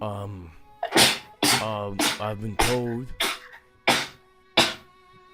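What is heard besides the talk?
sneeze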